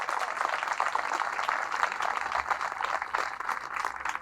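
Church congregation applauding after a sermon about the Virgin Mary, a dense, steady wash of many hands clapping together at moderate volume, continuous for several seconds without voices.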